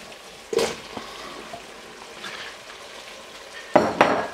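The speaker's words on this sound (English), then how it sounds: "I'm just gonna stir these all up, and we're gonna add our potatoes." Vegetables and potatoes being stirred in a pot for corn chowder, with a few scraping clatters of the utensil against the pot at the start and end and a low simmer between them.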